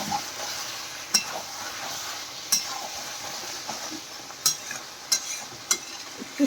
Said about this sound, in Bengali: দেখি তেল ছেড়ে গেছে, আর একটু সামান্য কষিয়ে